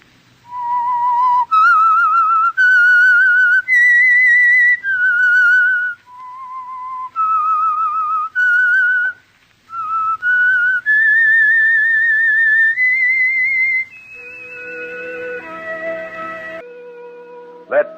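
A clear, loud whistled melody, the signature of the radio drama The Whistler, plays sustained notes rising and falling, with short pauses between phrases, ending in a few lower wavering tones.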